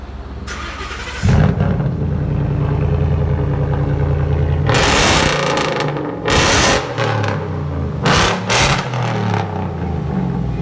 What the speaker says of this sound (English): 2015 F-150 straight pipe. It is sickeningly loud.